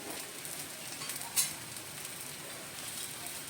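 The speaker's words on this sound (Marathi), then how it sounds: "मीडियम गॅसवरच हे भाजून घ्यायचे" Thin rava snack batter roasting on a pan over a medium gas flame gives a steady, soft sizzle throughout, with one brief sharper crackle partway in and no talking.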